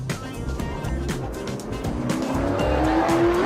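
Late model race cars running at Rockingham: a loud, continuous engine roar with rising revs and a tire squeal or engine whine building near the end, with no clear speech over it.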